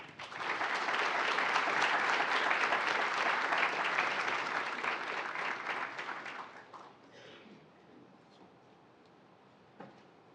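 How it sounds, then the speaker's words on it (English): Audience applause at a university honors day academic awards ceremony, a steady, dense wash of many hands clapping for about seven seconds before thinning out to scattered claps and quiet room noise. "let's just give her a round of applause"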